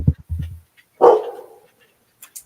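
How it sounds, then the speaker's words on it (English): A dog lets out a single sharp bark at moderate distance after a couple of low thuds, then quiet. "So there goes my dog."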